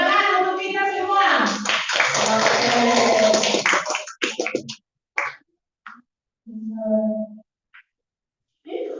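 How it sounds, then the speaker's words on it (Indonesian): A classroom of schoolchildren claps together in a dense burst of hand claps lasting a few seconds, mixed with young voices, then fading to scattered chatter and quiet gaps. "Tepuk tangan untuk kita semua"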